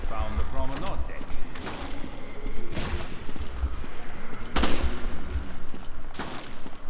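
Bursts of gunfire in the video game Resident Evil Revelations sound loud and rapid, spread across the clip with heavy sharp volleys and clattering mechanisms, and voices talk over the shooting.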